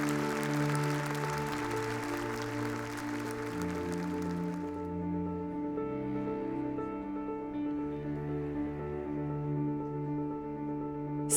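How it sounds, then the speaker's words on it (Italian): A pageant audience applauds the 20 finalists of the Miss Europe Continental contest. The broad clapping sits over steady music and drops away about halfway through, leaving the music alone. "vi chiedo un grande applauso per le nostre 20 finaliste"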